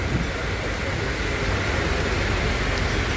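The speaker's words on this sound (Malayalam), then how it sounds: "നല്ല മഴയാണ് കേട്ടോ, കനത്ത മഴ." Heavy rain pours down during a backwater boat trip from Kottayam to Alappuzha in Kerala, a dense, constant roar of water that stays close and even throughout without a break.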